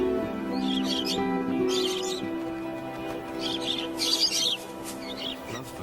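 Parakeets sheltering in rock shade in a dry landscape give a few short chirping bursts, moderately distant, over a steady low hum with a narrator's voice in the background.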